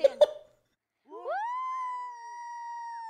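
A cat lets out a drawn-out, steady meow, loud and close, after two brief sharp knocks and a short silence.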